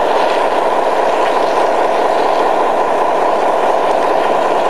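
A model railroad train runs steadily on a layout, a continuous close rumble and whir of wheels on track with faint clickety-clack, no pauses across the stretch.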